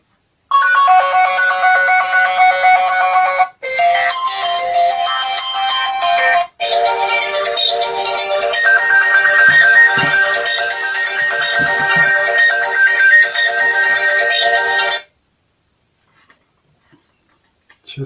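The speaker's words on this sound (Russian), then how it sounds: "Где у нас рингтоны?" Ringtones play loudly from the speaker of a Cubot Note S smartphone, bright electronic melodies in three back-to-back segments with short gaps, then cutting to near silence with faint taps.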